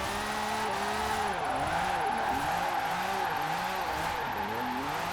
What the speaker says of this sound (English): This engine is so loud.